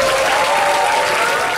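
A lecture audience gives a standing ovation at an announcer-department special lecture: dense, loud, continuous clapping from many hands filling the room, with no pauses or talk.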